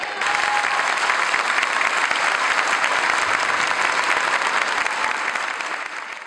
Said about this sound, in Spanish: los indígenas presentes en la sala de vistas de la Corte Suprema de Justicia se pusieron de pie, le gritaron asesino y aplaudieron la decisión del tribunal